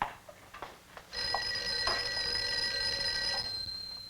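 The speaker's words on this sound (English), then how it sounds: "I think your phone is ringing." A telephone rings in a quiet 1950s office, a steady electric bell trill that cuts in after a second of near silence and keeps ringing close and loud to the end, with no one speaking over it.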